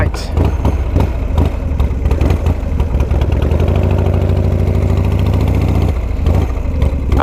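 A 29-year-old motorcycle engine catches and settles into a steady, loud idle close by, a low rumbling drone running throughout with a slight pitch shift partway, while a voice talks over it.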